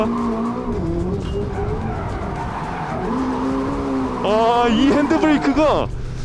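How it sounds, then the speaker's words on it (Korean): A Hyundai RN24 electric sports car's tires squeal and skid loudly as it slides under handbrake, with a quiet motor hum and someone talking over it. "이 핸드브레이크를 딱 잡으면 완전히 뒤를 날려줘요."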